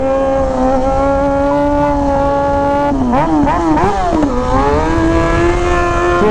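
A 2003 Kawasaki ZX6R motorcycle accelerating hard in first gear on a test ride, its engine screaming loud and steady with a rising pitch and quick wavering revs midway.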